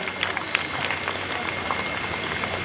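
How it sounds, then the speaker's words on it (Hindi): Audience applause at a Holi festival gathering of a senior citizens' council in Sarita Vihar, a steady wash of clapping from a crowd, sustained and fairly loud with a few sharper claps standing out. "इस सीजन के लिए जोरदार ताली बजाइए प्लीज"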